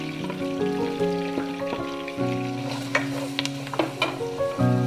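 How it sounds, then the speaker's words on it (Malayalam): Four green chillies cut into small pieces are sautéed in a pan for fish masala, giving a steady sizzle with occasional scraping stirs under background music. "ഇതെല്ലാം നന്നായിട്ട് ഒന്ന് വാടി വരുന്നത് വരെ വഴറ്റി കൊടുക്കാം"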